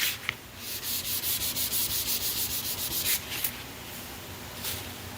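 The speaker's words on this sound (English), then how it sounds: "Now when you get to these edges, you just got to be careful. Just scuff them." Hand sanding to scuff the paint edges of a Fox Body Mustang, a quick, even rhythm of rubbing strokes close by, then slower, softer rubs.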